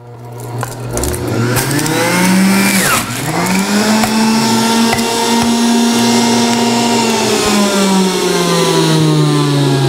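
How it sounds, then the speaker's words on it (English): An electric kitchen blender runs loudly and steadily for the whole stretch, its motor pitch dipping briefly as the load shifts and then rising and holding. No one speaks. "This blender is getting a bit messy."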